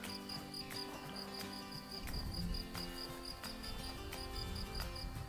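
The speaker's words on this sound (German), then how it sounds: "Ich glaube, die Grillen gehen ganz schön ab im Hintergrund." Crickets chirp in a garden in mid-June, a faint, steady high-pitched pulsing trill in the background, with occasional soft bird calls and low rustling.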